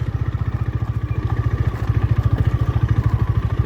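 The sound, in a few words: motorcycle riding on an off-road track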